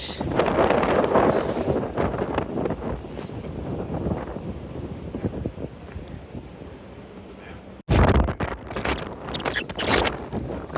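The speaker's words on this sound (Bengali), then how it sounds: "অনেক বাতাস" Strong wind at a seaside resort buffets the microphone in a continuous loud roar with gusty swells, a brief dropout, then another burst of heavy wind rumble.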